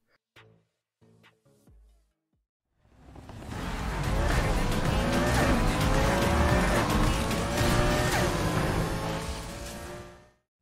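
Racing car engine roaring steadily in the video game Need for Speed Heat, loud and sustained with rising and falling revs and tyre noise, preceded by a few brief clicks.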